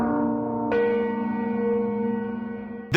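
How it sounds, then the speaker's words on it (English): A single metallic strike of the Ferrix anvil gong from Andor rings out, then a long bright tone with steady overtones decays slowly and alone. "the new year is welcomed with the chime of the Ferrix anvil gong"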